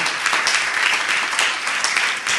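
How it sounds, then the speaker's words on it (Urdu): A church congregation applauds to welcome first-time visitors, a thick, even wash of many hands clapping together that holds steady for a couple of seconds, close and loud with no talk over it. "آئیے کلیسیا تالیاں بجا کر"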